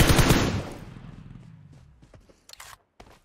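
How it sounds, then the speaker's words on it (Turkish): A single loud shotgun blast in PUBG Mobile, booming at the start and decaying into a long tail, followed by a few faint clicks and steps. "Lan pompalının sesine bak."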